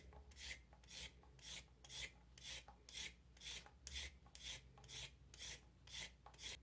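A carrot is peeled with quick scraping strokes, about a dozen rhythmic rasps in steady succession, close and quiet with short pauses between each pass and no talking over them.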